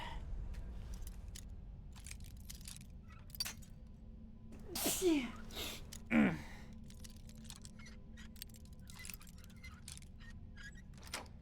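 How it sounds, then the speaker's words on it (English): Two sharp sneezes burst out about a second apart over a quiet low hum, with faint clicks and rustles scattered around them. "A sneeze"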